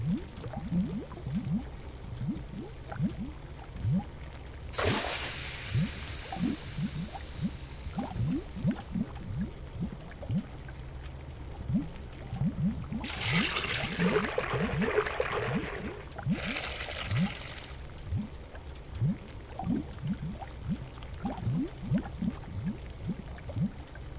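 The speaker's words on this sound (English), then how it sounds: "stir the potion clockwise 4 times, anti-clockwise twice, and then clockwise 3 times" A video game potion gurgles in a steady rapid train of small bubbles, with a brief bright whoosh partway through and a few short hissing swells later, no talk over it.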